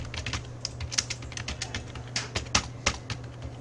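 Someone types a program on a computer keyboard, with quick, irregular clicks of close keystrokes over a low steady hum.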